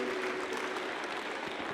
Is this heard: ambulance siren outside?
no